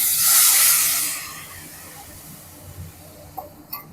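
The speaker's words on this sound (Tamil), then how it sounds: "இந்த குழம்பு அப்படியே எடுத்து இதில் ஊற்றிடலாம்" Dried fish curry is poured into a hot pan of sautéed tomatoes. A loud, close hissing sizzle bursts out at once, then fades over a couple of seconds into a quieter simmer with a few faint clinks.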